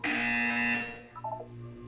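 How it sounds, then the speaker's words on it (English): Portal 2 video game buzzer, a loud harsh electronic tone held for under a second, then fading into a lower hum with a brief trailing chime. "You will hear a buzzer."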